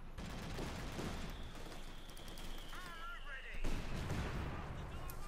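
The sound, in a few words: Centaur and mortar fire in Company of Heroes 2 video game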